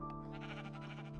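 A Minecraft sheep bleats once in a flat, wavering tone, quiet and held briefly over a soft steady game background.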